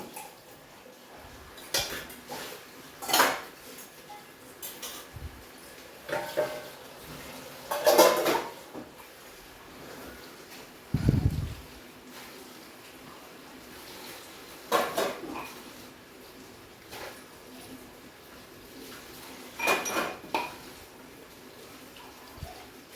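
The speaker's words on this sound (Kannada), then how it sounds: "ನಮ್ಮನೆ ಕಮಲಮ್ಮ ಪಾತ್ರೆ ತೊಳಿತಾರೋ ಸೌಂಡ್ ಅಂತೂ ಜೋರು ಕೇಳಿಸ್ತಾ ಇತ್ತು" Pots, pans and steel plates being washed in a home kitchen, irregular clanks and clinks scattered over a quiet background of running water, fairly close and loud, with no talking.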